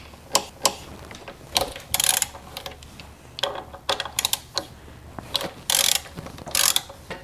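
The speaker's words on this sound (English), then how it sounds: "We're going to remove the brake caliper by removing the two bolts using a 12mm socket." A socket ratchet with a 12mm socket clicks in repeated quick bursts while the two brake caliper bolts come off an FJR1300 motorcycle front wheel, close and crisp with short pauses between strokes.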